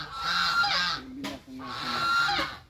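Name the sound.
goose honking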